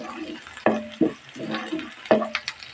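Egg noodles frying in a pan: soft sizzling with several sharp clanks and scrapes of a utensil stirring against the pan at irregular intervals, close and fairly quiet.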